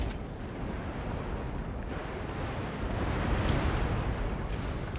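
Artillery fire in Napoleon: Total War, a steady rumbling roar of distant cannon with faint booms, continuous and dense throughout, no talk.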